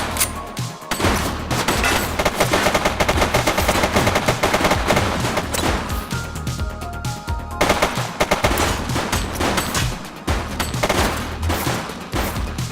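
Rapid automatic gunfire in The Precinct crackles nearly nonstop, dense loud bursts layered with single shots and a heavy boom, close and relentless with only brief lulls.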